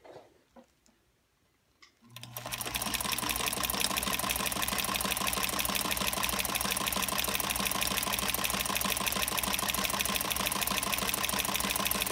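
Vintage 1941 sewing machine fitted with a ZigZagger attachment running steadily after a quiet start, a continuous loud mechanical whir with rapid needle ticking that holds without pause.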